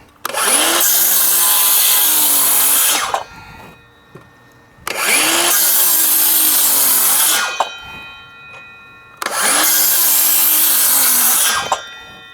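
A DeWalt circular saw rips through a treated 2x6 board three times, each loud cut lasting about three seconds with the motor dipping slightly under load, separated by brief spin-downs and quiet pauses.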